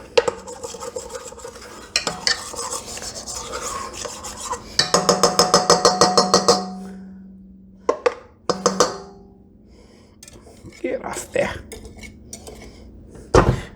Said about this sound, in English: I'm just going to give that a quick spoon around. Make sure we got everything off the edges.